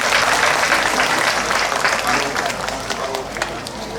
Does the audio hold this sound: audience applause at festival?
yes